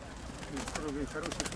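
A pigeon coos softly a few times amid a noisy, muffled background, close by.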